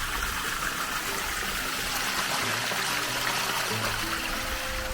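Water flowing steadily in a desert wadi stream near a spring, a close continuous rush and trickle with no voices.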